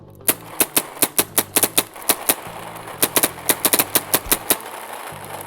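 NXE JRNY paintball loader firing and then running on, loud sharp cracks in irregular rapid clusters over a low motor whir, close by, with no talk.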